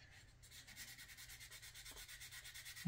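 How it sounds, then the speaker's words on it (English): Sandpaper wet sanding the deck lid of a 1957 Cadillac Eldorado Brougham model car kit, a steady close rhythmic back-and-forth rasping of fairly even strokes with no talk. "let's take some sandpaper and scratch all the work away that we did the last time we worked on it."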